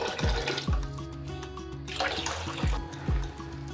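Hot water pours in bursts into a pot for corn soup, splashing and gurgling, with a few hollow knocks between pours.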